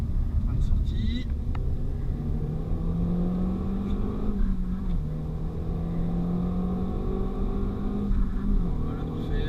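On the Magny-Cours circuit, a Renault Mégane 4 RS drones steadily from the cabin as it brakes hard, its engine pitch dipping and shifting while a person keeps talking over it.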